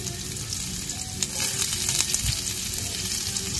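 Onions sizzling and frying in leftover oil from fried milkfish, a steady loud crackling hiss with occasional stirring scrapes throughout.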